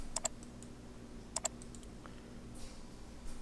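Computer mouse clicks in Microsoft Word sound as two quick close double clicks about a second apart, sharp and crisp against a quiet room hum, followed by a few fainter scattered ticks, with no speech.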